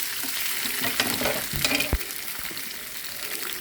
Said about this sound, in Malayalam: തേങ്ങ ഒരുവിധം മൂത്ത് തുടങ്ങിയിട്ടുണ്ട്. അതിലേക്ക് അണ്ടിപ്പരിപ്പും മുന്തിരി ഇട്ട് അതും നന്നായിട്ട്